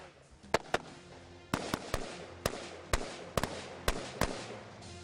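Carbine gunshots ring out during a tactical shooting drill, about ten sharp, loud reports at uneven intervals, some fired in quick pairs, over a murky background of range noise.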